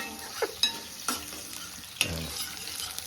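Onions fry in a pan with a steady close sizzle, broken by several sharp spatula scrapes and clinks of stirring, and no one talks.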